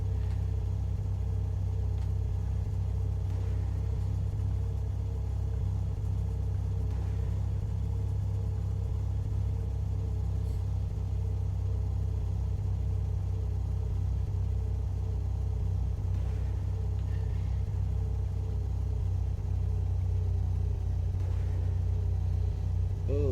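A steady, droning car engine in the racing game PA: Slingshot hums continuously at a constant pitch, with a low rumble and no clear acceleration, playing on its own.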